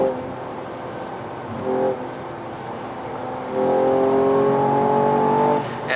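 A 2019 Mercedes-AMG E53 4Matic being driven at high speed, its engine droning steadily and then rising in pitch and loudness as it accelerates, heard from inside the cabin.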